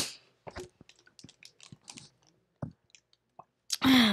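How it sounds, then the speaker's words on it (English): Close, wet chewing and crunching of food in irregular bites with quiet gaps between them, followed by a short loud burst near the end. "I just ate some food"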